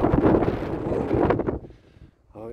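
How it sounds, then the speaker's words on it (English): Strong wind gusts buffet the microphone by the water at North Shields Fish Quay, a loud, steady roar that drops away briefly before a short new gust. "It's a bit windy."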